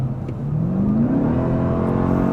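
A 2024 Dodge Durango Hellcat's supercharged engine revs up in one steady rising sweep, loud and close, then holds a strong droning roar, with no talk over it.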